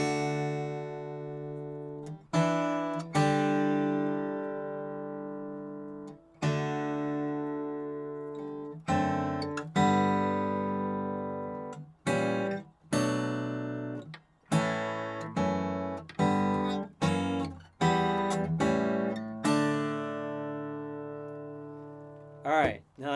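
An acoustic guitar plays the second half of the worship song Holy Water, with chords strummed one at a time and left to ring and fade before the next, in a quicker run near the end.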